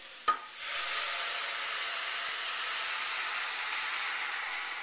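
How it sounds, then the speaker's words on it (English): Food sizzles steadily in a hot pan while a squash, kale and white bean stew is cooked, a brief clink at the start followed by an even, continuous hiss with no talking. "I love that sizzle."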